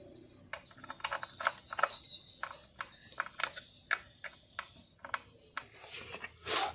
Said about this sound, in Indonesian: baru kita kencangkan menggunakan obeng